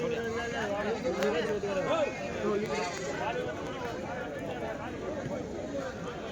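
Small male goats bleat repeatedly at a weekly livestock market in Kadiri, over loud, continuous crowd chatter and people talking nearby.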